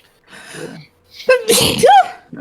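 A single loud, close sneeze with a sharp intake of breath before it, set between brief bits of talking.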